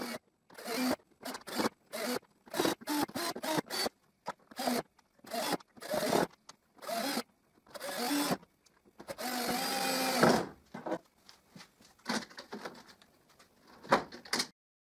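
Hinges are screwed onto a wooden ventilation window by hand, giving a series of short, close scraping and creaking twists in uneven bursts separated by brief pauses, with one longer grinding stretch.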